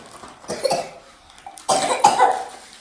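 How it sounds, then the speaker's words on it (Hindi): Two bursts of harsh coughing, the second louder and longer, close by with no talking. "इनका इतनी बुरी खांसी हो रही"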